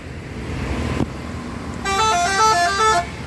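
Buses in a Minang convoy of six coaches from different makes, including Gumarang Jaya and ANS, pass on the road. A rumble of engines leads into a loud, sustained multi-tone musical horn that plays a melody for about a second.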